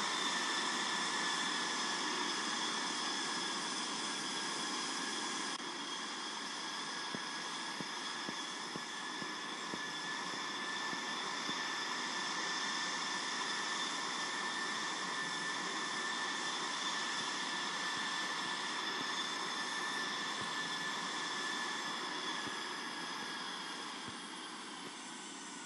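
A steady airliner engine drone at 16,000 feet cruise in the Infinite Flight simulator, a constant even hum with faint high tones that holds unchanged for the whole stretch and eases slightly at the end, with no talking.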